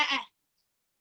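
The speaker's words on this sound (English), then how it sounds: "I heard a sheep." One short, sharp bleat from a single sheep, close and abrupt, followed by silence.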